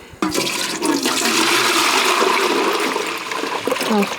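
Buttermilk left over from churning butter is poured out at a mountain pasture hut in the Carpathians, a sudden steady gush of liquid that splashes and runs for about four seconds, close and fairly loud.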